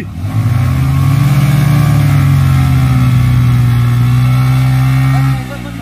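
Hero HF Deluxe and CT 100 motorcycles racing, their engines droning loud and steady, rising then holding a sustained mid-pitched roar before cutting off near the end.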